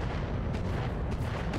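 Mech weapons fire thermobolts in the BattleTech video game, a dense, sustained roar of booming blasts that fills the whole short stretch with no pauses and no voices.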